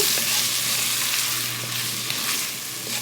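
Flour being stirred into cauliflower sizzling in a pot for roasted cauliflower soup; a steady, close frying hiss with soft scraping of the stir running throughout, no voices.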